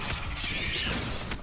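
In the game Hogwarts Legacy, casting the Revelio spell sets off a short, bright magical effect: a shimmering whoosh with mechanical, ratchet-like clicks, over in about a second and a half with no talking.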